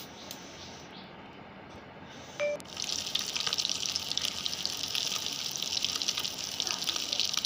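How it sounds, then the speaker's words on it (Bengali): Fish rinsed under a running kitchen tap, the steady splashing stream starting after a short clink and continuing loud and close, with faint background noise and no talking. "এখানে মাছ ধুয়ে রাখছি"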